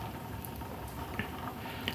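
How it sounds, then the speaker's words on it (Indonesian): A pot of liquid food mix for soil bacteria simmers at a low boil, giving a soft continuous bubbling with occasional small pops and splashes. "Dia sampai mendidih, sampai bercampur, boleh diaduk ya."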